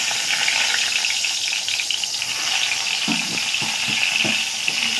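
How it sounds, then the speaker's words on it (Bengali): Eggplant pieces fry in hot white oil in a wok, giving a steady, loud, close sizzle with a few soft stirring knocks near the end. "এবার বেগুনগুলো ছেড়ে দেব।"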